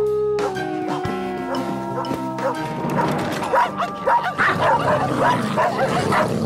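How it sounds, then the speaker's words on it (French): Several dogs barking and yipping in a cartoon dog pound, a dense, lively chorus that builds after a tonal musical opening and keeps going loudly to the end. "Je m'apprête à entrer dans une fourrière pleine de chiens, volontairement."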